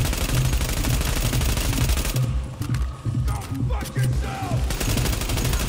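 Rapid automatic gunfire blasts at an enemy in The Division Underground video game, dense loud bursts with a short lull in the middle, no talk.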